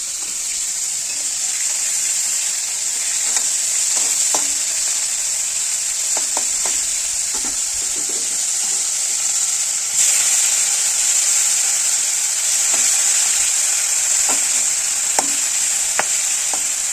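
Fish sizzling in hot oil in a pan, with a continuous close frying hiss broken by repeated scraping taps of a spatula as the pieces are stirred and turned; no talking.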